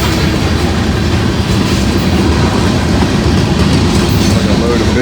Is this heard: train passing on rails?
yes